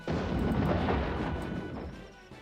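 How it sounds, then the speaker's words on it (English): A cannon firing at a tower in the game Warhammer: Dark Omen, one loud sustained boom that rumbles on and slowly fades, sounding close with no talk. "Cannon is probably better at blowing this thing up."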